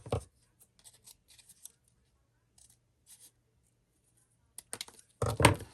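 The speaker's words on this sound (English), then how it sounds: "Cut a piece." Scissors cut a piece for a rustic sunflower craft letterboard, heard as a series of faint, close snips and rustles, ending in a louder scrape.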